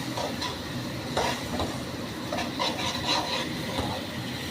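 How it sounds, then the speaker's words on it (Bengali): Spice paste for a mixed vegetable navratan korma sautéed and stirred in a pan, with a steady soft sizzle and repeated scraping strokes of a spoon running through the whole stretch, no talking. "এবার মশলাটা একটু ধরে ধরে কষাবো"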